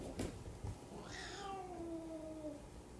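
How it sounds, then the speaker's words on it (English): An unhappy cat gives one long, drawn-out meow that slides downward in pitch, clear and close, after a couple of soft knocks, with no one speaking. "My cat is not happy."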